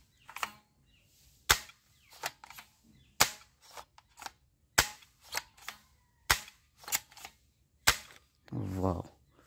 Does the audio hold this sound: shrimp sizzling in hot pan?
no